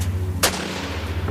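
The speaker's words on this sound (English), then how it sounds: "a flurry of panicked gunfire breaks out between the Marshals and the boys." A single sharp gunshot cracks out near the middle of a brief moment, standing alone over a low steady hum in a rural standoff between marshals and armed locals.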